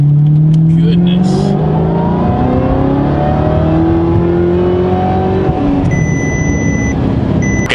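Supercharged Audi R8 LMS race car accelerating hard, a loud, close engine note rising through the gears with a shift partway, steady roar throughout with faint high tones near the end.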